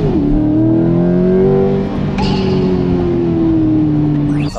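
A mid-engine Chevrolet Corvette C8 sports car engine runs loud and close, a sustained throaty drone that eases slightly, then holds a steady idle-like hum with a brief mechanical click near the end.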